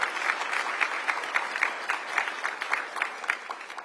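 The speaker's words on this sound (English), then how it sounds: "So round of applause for Pam and the Research Bureau" A small audience claps for Pam and the Research Bureau at an annual Bureau speech event, a moderate run of uneven hand claps with sharper individual slaps, fading slightly near the end.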